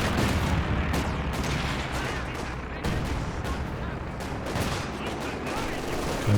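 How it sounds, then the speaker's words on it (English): LMG machine gun fire in the game Company of Heroes 2, dense overlapping bursts of gunfire and battle noise, steady and loud throughout with a voice talking underneath. "the infantry section getting shredded by the LMG Grenadiers"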